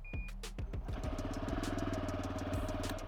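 A motorcycle engine starts up on its own starter and settles into a steady, low, rhythmic idle, heard close and fairly loud, with no talking over it.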